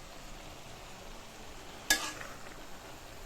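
Cabbage frying with spices in a pan makes a soft, steady sizzle, broken by a single sharp clank of a spoon against the pan as it is stirred.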